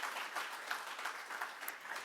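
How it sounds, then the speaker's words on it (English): A room at a Surrey Board of Trade meeting breaks into applause, a steady, fairly soft wash of many hands clapping that runs through the moment with no speech. "Yes, you can have a round of applause."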